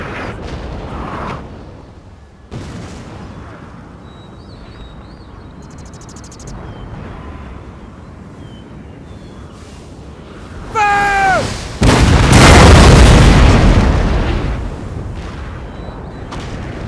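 Napoleon's artillery battalion at the Battle of Waterloo, recreated in Total War, fires a heavy booming volley that swells to a loud rumbling peak late on, after quieter distant battle noise and brief high whistles.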